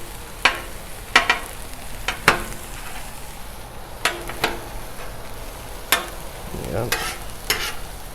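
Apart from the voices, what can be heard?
bacon and onion frying on Blackstone griddle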